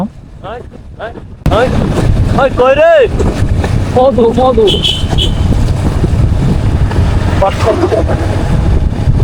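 Motorbike riding on a road between tea gardens in Sylhet, with steady loud wind buffeting the microphone and a low engine rumble throughout, after a quieter opening second; voices talk over it in the middle.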